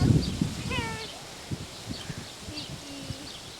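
A kitten gives a single clear, rising meow early on, followed by soft rustling and faint scattered sounds nearby.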